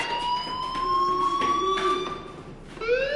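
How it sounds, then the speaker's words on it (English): A steady electronic fire alarm in the video game Life is Strange wails continuously with rising pitch sweeps, loud and close, alone without speech. "do you hear that fire alarm?"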